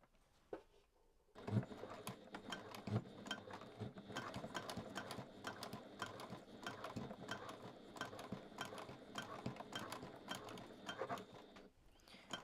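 A sewing machine top stitching a handmade fabric zipper pouch at a 3.5 stitch length runs in a steady, quiet mechanical whir with fast ticking after a brief pause, close by and without talk.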